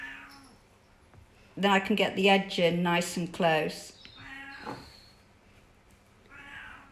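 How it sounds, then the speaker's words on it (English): A house cat meows loudly and close by in a long, drawn-out, wavering call, then gives a fainter short meow afterward while a person talks over part of it. "Sounds like the cat wants to be the star of the show."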